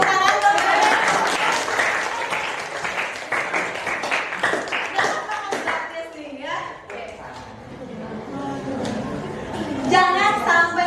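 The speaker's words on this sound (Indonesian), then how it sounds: "Iya, benar, tepuk tangan dong." Students in a classroom clap in a loose, uneven burst that is brief and somewhat scattered, with voices and chatter mixing in around the claps.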